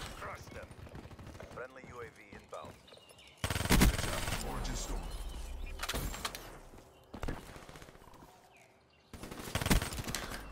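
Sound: gunfire in the video game Black Ops 3

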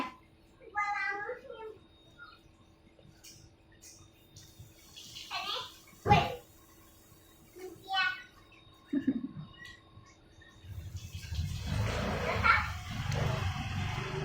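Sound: running water while washing a child's hands

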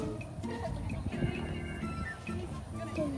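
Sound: horses at a farm

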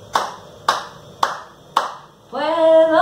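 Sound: hands clapping

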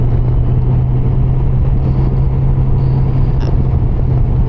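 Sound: motorcycle engine accelerating while shifting up through gears

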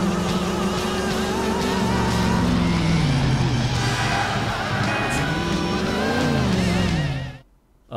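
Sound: car racing in GTA IV video game

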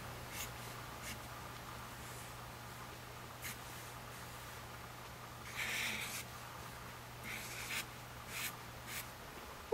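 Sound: pen drawing on paper

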